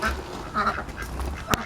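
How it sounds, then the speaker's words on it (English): Ducks quacking near a raised bed organic garden, several overlapping nasal calls over steady outdoor background noise, with one sharper quack near the end. "Noisy ducks today."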